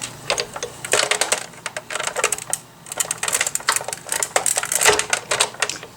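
A hand-cranked die cutting machine pulls a plate and card stock through its rollers, giving a dense, uneven run of rapid clicking and ratcheting taps, close and fairly loud, with a short pause partway through.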